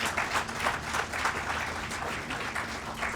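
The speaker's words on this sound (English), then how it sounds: "please give all yourself a good round of applause" Marchers gathered at an interfaith solidarity march in Los Angeles give themselves a round of applause, a soft, distant, continuous spatter of clapping with a faint steady hum underneath.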